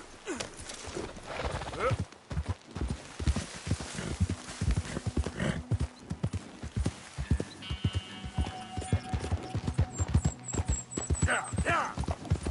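Horse hoofbeats clop steadily at a riding gait in Red Dead Redemption 2, close and rhythmic, with a brief whinny, game music and a voice talking over them.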